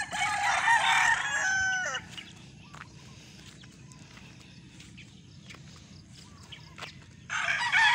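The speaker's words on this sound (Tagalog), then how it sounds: "Ang mga manok, tingnan yun, mga manok." A rooster crows loudly at the start, then scattered hens cluck softly in an open yard on a mountain, perched up in a tree, followed by another crow at the end.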